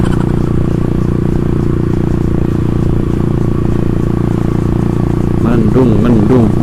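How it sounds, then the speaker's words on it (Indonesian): A loud motorcycle engine roars close by with a steady, continuous drone that stays strong the whole time rather than fading, and a voice comes in over it near the end. "kenceng banget itu motor apa sih?"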